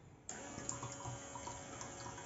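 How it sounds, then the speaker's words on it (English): Water pump started from an Android phone app in a DIY starter project sends a steady stream of water running and splashing, beginning abruptly after a brief quiet moment and continuing evenly. "Let's turn on the water pump first of all."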